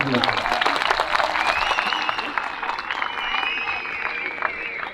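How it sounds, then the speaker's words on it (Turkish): Young people at a Turkish school Nevruz celebration applaud as a crowd, a dense steady wash of clapping mixed with voices and faint crowd noise, moderately loud throughout. "biraz alkışlayın ya gençler"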